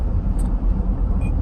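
A 2003 Toyota Tundra truck engine with 200k miles runs with a low, rumbling throttle blip, steady and close, heard briefly without speech.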